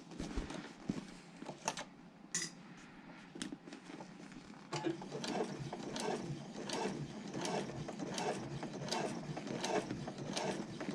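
A sewing machine topstitches a handbag slowly, giving a run of close mechanical ticks and clatters in uneven bursts with brief stops between.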